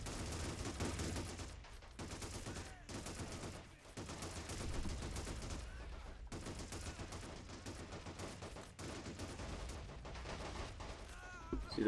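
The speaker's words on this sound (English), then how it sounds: "They still got one Churchill still up, but it's taking pretty heavy fire right now." Dense, continuous gunfire and machine-gun bursts crackle in Men of War: Assault Squad 2 as a British Churchill tank takes heavy fire from Russian forces, sharp rapid shots overlapping without pause.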